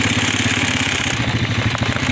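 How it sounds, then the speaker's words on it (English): A four-wheeler ATV engine runs loud and close, a steady chugging drone with no voices. "these babies are chasing my four-wheeler."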